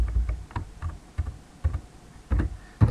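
Keystrokes on a computer keyboard while working in a terminal over SSH, a quick irregular run of close, moderately loud taps with short pauses between bursts, no talking.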